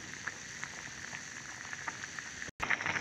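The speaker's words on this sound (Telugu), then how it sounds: "సేమియా చూసారు కదా, ఉడుకుతుంది" Vermicelli simmers in a pot of boiling water for payasam, giving a steady close bubbling and popping with soft hiss, broken by one brief dropout near the end.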